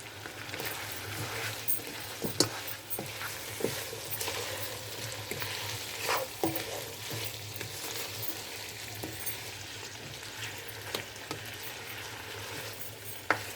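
Chicken tikka karahi with coriander and lemon juice is stirred in a pan, a steady low sizzle broken by repeated scraping and clacking strokes of the spoon, close and moderately quiet.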